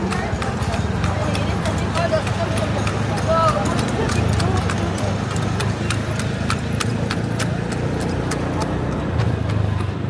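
A horse pulling a tartanilla carriage through the streets of Pasil, Cebu City, at night, its hooves clip-clopping steadily under constant traffic and engine noise, with voices around.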